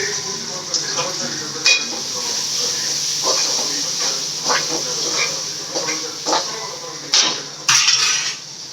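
Tomatoes and onions sautéing in a pan, a continuous hiss and sizzle broken by scattered clinks and scrapes of a spoon, with a voice speaking over it.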